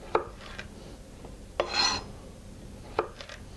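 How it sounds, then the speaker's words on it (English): Knife slicing a carrot lengthwise into four pieces on a cutting board, three sharp separate chops with a short scraping rub between them, close and quiet, with no talking. "Cut the thinnest part lengthwise into 4 pieces."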